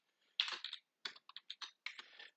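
Quiet, close keystrokes on a computer keyboard in short irregular bursts of clicks with brief pauses, typing a command into a terminal, with no voices.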